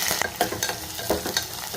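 Chopped onions and green chillies with seasoning seeds fry in hot oil while being stirred. The sizzle is close and continuous, broken by soft scraping stirs, and no one speaks.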